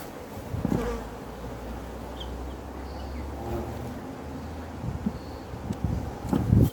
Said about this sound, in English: there's plenty of bees on it, plenty of bees in it